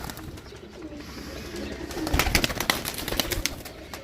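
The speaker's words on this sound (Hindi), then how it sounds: "कबूतर हैं भाई कबूतर" Pigeons coo softly nearby, with fluttering and rustling movement building midway and continuing in uneven bursts.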